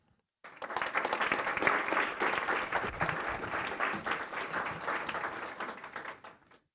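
An audience claps steadily for about six seconds to welcome two speakers, Ted and Eric, at an evening talk featuring a company founder. The dense applause starts abruptly, holds a fairly even level, and fades out at the end.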